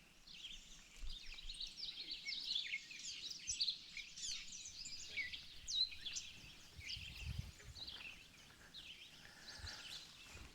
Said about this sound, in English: so I'm sure it's a bird.